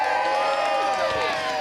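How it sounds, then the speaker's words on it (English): A crowd at a housing rights rally cheering with whoops and raised voices, steady and full throughout, with some clapping mixed into the noise. "Give yourselves a round of applause."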